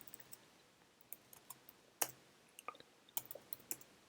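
Command being typed on a computer keyboard while setting up an Algo VPN on an UpCloud server: sparse, quiet clicks and key taps spread irregularly, with a sharper strike near the middle and a short burst of keystrokes toward the end.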